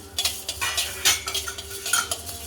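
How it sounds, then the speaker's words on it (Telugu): Coriander seeds frying and being stirred in a pan, with quick scraping and clinking utensil strokes over a soft, fairly quiet sizzle. "నెక్స్ట్ ధనియాలు వేయించుకుందామండి."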